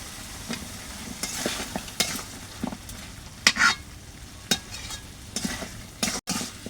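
Vegetable stalks stirred and frying in spice paste, a steady sizzle with repeated scraping and knocking of a spatula against the pan, close and moderately loud, no voices.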